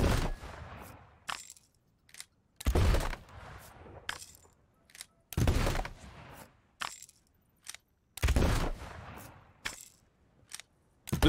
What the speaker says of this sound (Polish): Jak wygląda szybkostrzelność garłacza?